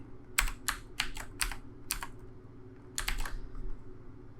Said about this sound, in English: Uh-oh. I'm typing.